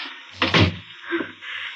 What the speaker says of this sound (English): Now, we'll shut the door.